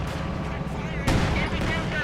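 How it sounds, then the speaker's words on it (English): Strafing run in a real-time strategy battle, a dense continuous roll of gunfire and explosive booms with a sharp burst about midway, layered under the ongoing din of combat. "It's a strafe from DevM."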